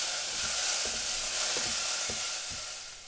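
Onions stir-frying in oil in a pan over fairly high heat, a bright continuous sizzle with several soft scraping stirs of the utensil at a steady rhythm.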